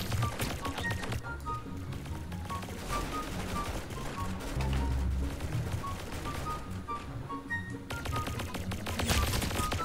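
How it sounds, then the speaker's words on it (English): Rapid laser gun fire in the video game Arsenal, a dense, continuous stream of shots over game music and effects throughout. "This is supposed to be a freaking laser gun, yet the lasers do as much damage as a napkin"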